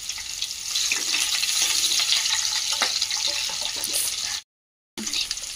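Onions and green chillies sizzle in a pan for tomato rice, a steady, close hiss with small crackles that runs unbroken until it cuts out near the end.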